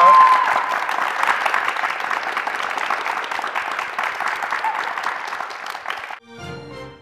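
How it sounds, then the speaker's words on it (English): Audience applause for Miss World Mongolia 2017 contestant Enkhjin, a dense steady clapping from a crowd lasting about six seconds before stopping abruptly, with faint sounds afterward. "Everybody give her a round of applause."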